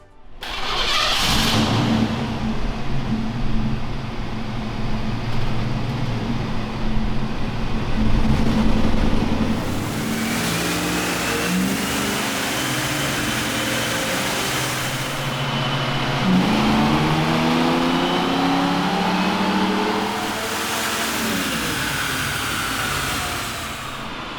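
A white 1987 Ford Mustang 5.0 GT convertible with an automatic overdrive gearbox runs on a dyno, the V8 starting and then revving in long rising and falling pulls, loud and close, with a repeated climb in pitch partway through.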